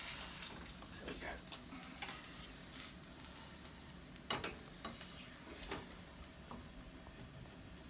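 An omelette with onions, mushrooms, tomatoes and cheese cooks in a pan on a gas grill, giving a quiet sizzle broken by scattered scrapes and clinks of a utensil against the pan.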